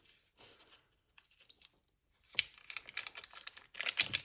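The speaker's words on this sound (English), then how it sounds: "Let me cut this butter." A knife cuts through cold, hard butter with sharp scraping and cracking strokes on a cutting board, sparse at first and then quicker and louder, close up, with no talking.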